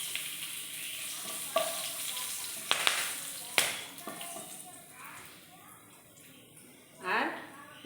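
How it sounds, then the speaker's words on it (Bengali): Whole garam masala spices dropped into hot oil sizzle and crackle in a pan, with a few sharp clinks of a utensil and someone talking in Bengali over the frying. "এবার আমার তেলটা গরম হয়ে গেছে, আমি এখানে দিয়ে দেব গোটা গরম মশলা।"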